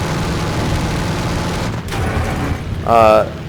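Machine guns fire from a He-112 B-0 aircraft in the War Thunder combat flight game. A dense, continuous roar of engine and gunfire ends in a louder, sharper burst.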